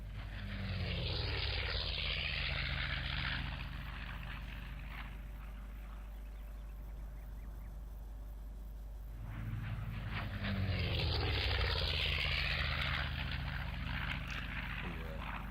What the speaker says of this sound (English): Distinctive sound of the 14-cylinder radial there.